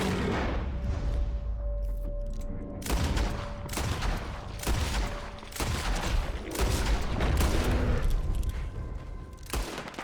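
Gunshots fired at an attacking bear in Red Dead Redemption 2, a run of loud, sharp cracks with booming tails, spaced a second or two apart over rumbling background noise.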